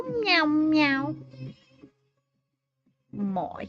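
A house cat meows twice in quick succession, close and fairly loud, with a shorter, softer cry after it and one more vocal sound near the end after a brief silence.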